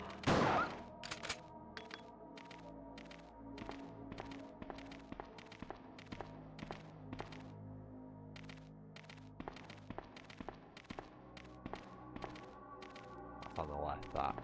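Shotgun blasts in Resident Evil 2 on the original PlayStation, fired repeatedly in an even, steady rhythm at moderate loudness over a humming game soundtrack.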